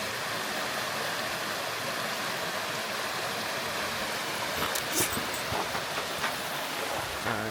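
Small backcountry creek in Ohio flows steadily near a bridge, a close, even rush of water with a few brief clicks and knocks toward the end and no talking.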